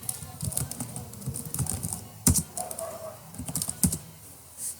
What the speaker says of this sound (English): Now type your name.